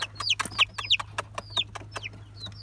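A hen with her small chicks in a farmyard among olive trees, giving bright rising peeps and soft clucks in a quick, irregular patter with light scuffling, fairly close and alone without talk.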